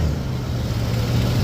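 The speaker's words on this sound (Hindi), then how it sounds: "तो अभी गाड़ी स्टार्ट है बिल्कुल।" A 2014 Toyota Tundra engine idling after starting, a steady low rumble with a constant hum, close and continuous without a break.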